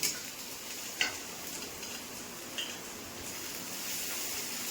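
Ginger, garlic and tomato sizzling in a pan for a soybean curry, a steady soft frying hiss broken by a few faint clinks of a spoon stirring.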